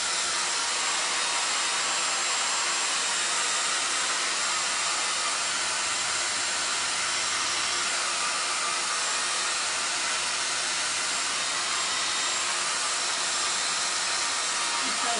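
A hair dryer blows a steady, loud, broadband whoosh while drying salt wash paint, running continuously without a break and with no talk over it.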